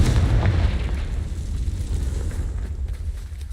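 A Confringo spell explosion in Hogwarts Legacy lands with a loud, deep boom that rolls into a sustained low rumble and fades slowly.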